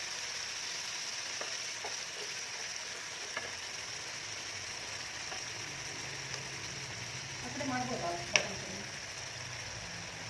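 Paneer cubes frying in a pan for kadai paneer, giving a steady soft sizzle in a home kitchen, with a few light ticks and a brief stir near the end.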